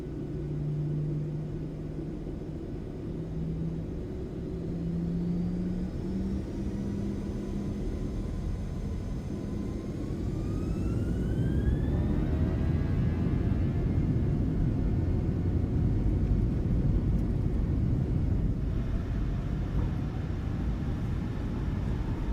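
A PMDG 737 airliner taking off in a flight simulator, with a steady engine drone and rumble that swells as thrust builds and rising whine tones sweep upward through the roll, with no talking.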